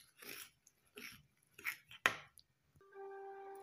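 Corn bread batter being stirred gently in a bowl: three soft, rhythmic scraping strokes, a sharp knock, then a steady electronic tone at the end, close and quiet.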